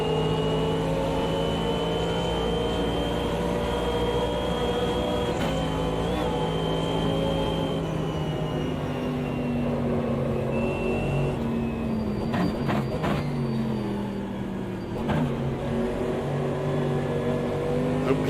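A Porsche race car on the Nürburgring Nordschleife in the Automobilista 2 racing game, its engine droning steadily and close with shifting pitch and brief gear-change dips, continuous and loud throughout.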